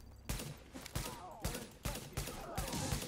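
Gunfire in the video game Tom Clancy's The Division, aimed at a sentry gun: loud, close bursts of rapid shots repeating about every half second to a second, with a few brief pauses.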